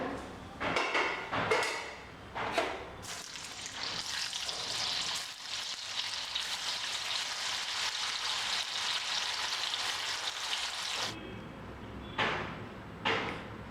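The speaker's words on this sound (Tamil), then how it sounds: "இதே மாதிரியே எல்லாத்தையும் போட்டு வறுத்துருங்க" Bitter gourd slices frying in hot oil for chips, a loud continuous close sizzle with bursts of stirring and scraping at the start and end, no talking.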